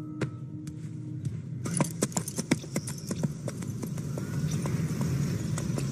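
Horse hooves clip-clopping while a horse is ridden, a quick steady run of sharp hoof strikes close by, rising over low ambient noise.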